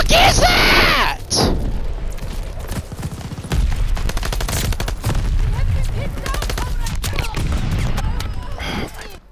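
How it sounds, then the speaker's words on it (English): Rapid gunfire from Call of Duty shooting through a wall, dense bursts of automatic fire and booms filling the clip loudly, with voices shouting over the shooting. "He's just fucking shooting through the fucking wall!"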